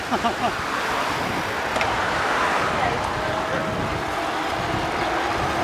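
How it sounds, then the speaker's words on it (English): Ocean surf rolls steadily along Kailua Bay in Kailua-Kona, a broad continuous wash heard from a moving bike ride, mixed with wind and passing traffic. "oh, look at the waves"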